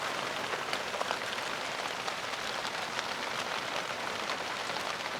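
Heavy tropical downpour drumming steadily on surfaces, a dense continuous hiss of rain at constant loudness with no voices.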